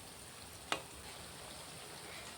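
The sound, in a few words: potato-based fritters (taler bora) frying in oil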